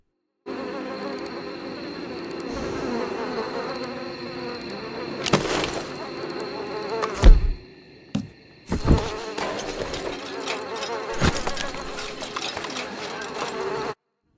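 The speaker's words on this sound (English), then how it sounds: "can you hear the buzzing flies?" Flies buzz steadily and close at a pagan ritual site in Red Dead Redemption 2, a continuous insect drone broken by a few sharp clunks and brief gaps.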